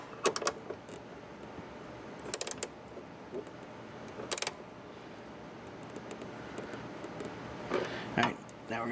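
Gear wrench ratcheting in short quick bursts while a shifter is installed in a C2 Corvette, fairly close, with quiet gaps between the clicking runs.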